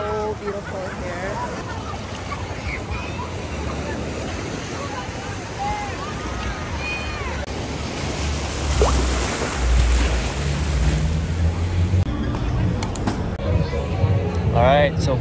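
Surf rolls in steadily at a crowded Waikiki Beach on Oahu, Hawaii, a continuous wash of waves mixed with wind noise and background voices of beachgoers.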